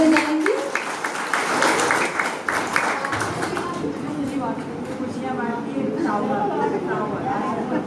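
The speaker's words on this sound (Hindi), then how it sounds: "हम सब जोरदार ताली बजाएंगे।" Applause from a gathered audience swells briefly, loose clapping mixed with crowd chatter and someone talking over it, fairly close and moderately loud.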